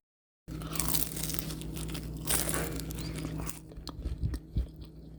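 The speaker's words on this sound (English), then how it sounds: "Let me give these a bite." Crisp, flaky crunches and tearing of an oven-baked tuna empanada pastry as someone bites into it and chews, close and fairly quiet, with crumbly crackles that thin out toward the end.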